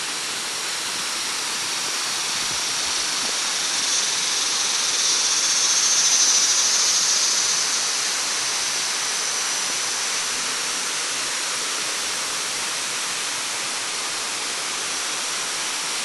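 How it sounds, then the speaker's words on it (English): A waterfall at El Bosque Tranquilo roars as a steady, dense broadband rush that stays loud and unbroken throughout, swelling slightly midway, with no voices over it. "we were up there to the top of the falls"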